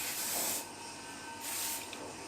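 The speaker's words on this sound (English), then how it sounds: "And then add hairspray as you like." Hairspray from an aerosol can hisses in two bursts, each roughly three-quarters of a second long, sprayed onto hair while styling. The sound is close, with no talk over it.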